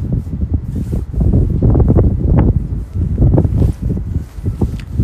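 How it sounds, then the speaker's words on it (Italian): Strong wind buffets the microphone at an outdoor women's Serie C football match in Rome, a loud low roar that gusts and surges in uneven waves with no clear voices. "Vento che non solo non diminuisce ma aumenta qui a Roma"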